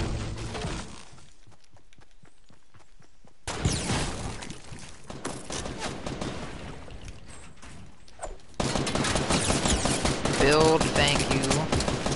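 Rapid video-game gunfire from a shooter in a building game with wooden walls, arriving in dense rattling bursts that start, stop, and resume louder near the end, with close crackling impacts layered throughout.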